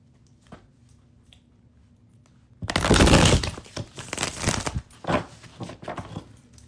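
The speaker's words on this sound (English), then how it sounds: "While I'm shuffling the cards" Tarot cards are shuffled close up, a burst of rapid papery riffling and flicking starting partway through after near silence, followed by several shorter crisp shuffles.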